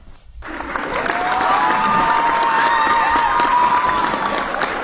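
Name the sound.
applause sound effect played on a livestream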